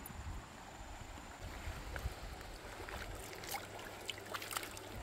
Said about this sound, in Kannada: ನೀರು ಸೌಂಡ್ ಕೇಳೋಕ್ಕೆ ಚೆನ್ನಾಗಿದೆ.